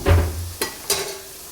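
Fish pieces fry in a pan and get stirred, giving a close burst of sizzling and scraping followed by two sharp knocks of the utensil against the pan.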